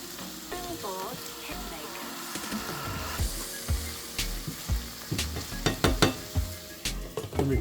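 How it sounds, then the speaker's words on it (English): Vegan jackfruit pulled pork stirred in a frying pan, a soft sizzle under repeated clattering scrapes and knocks of a utensil against the pan that grow louder and more frequent, with faint voices early on. "Just make sure that you stir it occasionally"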